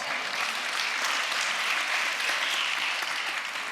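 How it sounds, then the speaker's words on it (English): An audience at a civic talk on city design applauds, a dense, even wash of many hands clapping, steady and sustained throughout at moderate distance, with no voices over it. "Give yourselves a round of applause."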